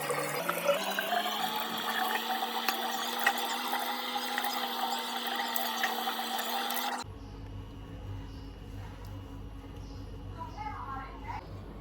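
Water splashes and runs steadily at close range as dried face paste is washed off, followed by a quieter stretch of soft room ambience.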